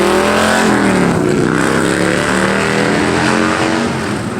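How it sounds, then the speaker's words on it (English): A loud motorcycle engine revs and roars past on a city avenue, its pitch sliding downward as it goes by, close and dominating the whole stretch before easing slightly at the end. "I can't compete with a motorcycle"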